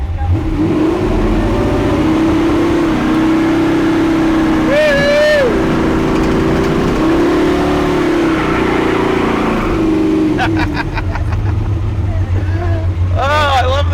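A restored barn-find muscle car engine rumbles steadily with a deep exhaust drone, loud and close, under occasional voices and squeals, with a shift in engine note near the end.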